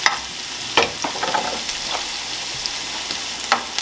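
Garlic and onions cook in a pan for mushroom and pea risotto, a close, even sizzle with a few clattering stirs of a utensil scattered through it and no talking.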